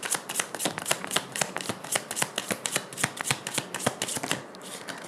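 Tarot cards being shuffled and handled after one slipped from the deck, a quick run of crisp riffling slaps and flicks, close and fairly quiet, with no talking.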